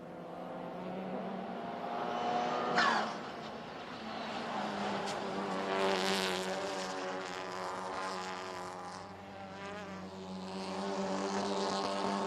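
TCR touring race cars at the Curvelo circuit drone steadily at a distance, engines rising and falling as they run the last sector, with a brief whine near the start and no talk.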